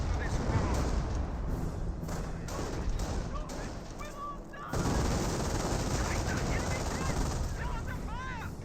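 A Calliope rocket barrage and gunfire in the World War II strategy game Company of Heroes crackle in dense, continuous volleys, with sharp bursts and a louder surge of explosive fire midway through.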